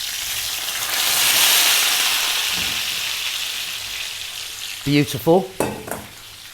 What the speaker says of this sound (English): we're going to put them into the roasting tin that you have with the oil that's hot